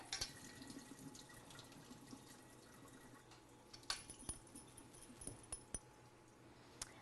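Soaked pickling cucumbers drain in a kitchen sink, giving a low steady wash of running water for several seconds with scattered drips and light clinks from about four seconds on, fairly quiet throughout.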